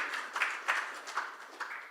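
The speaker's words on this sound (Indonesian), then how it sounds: "Yang percaya tepuk tangan sekali lagi bagi Tuhan kita." A church congregation claps together during a Sunday worship service, a brief burst of applause with a few rhythmic swells, moderately loud and close.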